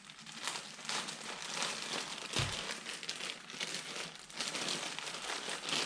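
Plastic bag crinkling and rustling as bonsai kit pots are pulled out of it, a soft, steady close-up crackle lasting several seconds with no talking.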